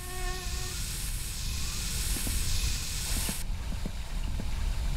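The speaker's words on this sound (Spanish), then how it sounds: "Mosquito fuera." In the video game My Summer Car, a mosquito buzzes in a thin, steady whine that holds for several seconds over a constant game background hum, with faint low ticks scattered through it.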